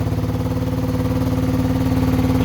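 A 1978 Honda XL250 motorcycle engine idles steadily and close by, with a firm, even rhythmic thump, its exhaust being run in, and no voices over it.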